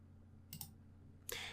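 A computer mouse clicks twice, sharp and close, about three quarters of a second apart, in an otherwise quiet room.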